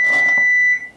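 An oven signals it has finished preheating with a single steady electronic beep, clear and close, ending within about a second in a quiet kitchen.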